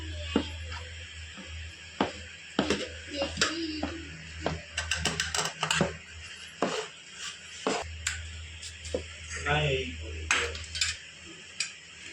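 Besan laddu mixture being stirred into sugar syrup, irregular scraping and clinks of a spoon against a steel vessel in short bursts, close and fairly quiet over a low hum.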